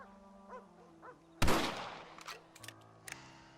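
A single loud rifle shot in Red Dead Redemption cracks out and echoes away across open ranch country, preceded by quiet ambient tones and followed by a few faint knocks.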